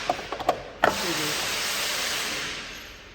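A few metallic clicks and a thump as a bull bar part is pulled out from under the active grille of a Land Rover Defender L663, followed by a steady scraping hiss that slowly fades.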